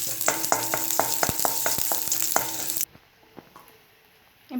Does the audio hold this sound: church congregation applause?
no